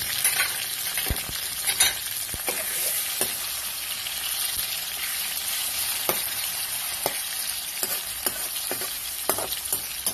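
Chicken fries in a pan after garlic, a dense continuous sizzle with scattered spatula scrapes and clicks, close and fairly loud, no voices.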